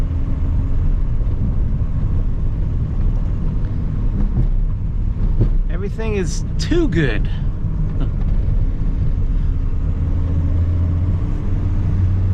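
Datsun 280Z with a tuned EFI engine driving, a steady low engine rumble throughout, with someone talking over it in the middle.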